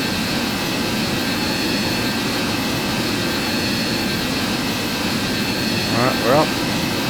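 Steady jet engine roar of an A-10A Thunderbolt II during a takeoff run in a flight simulator, a continuous broadband rumble and hiss holding level throughout, with a brief rise near the end.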